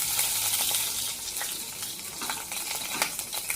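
Black cumin seeds and a green chili fry in hot oil with a steady, hissing sizzle, and a few soft stirring clicks come through close by.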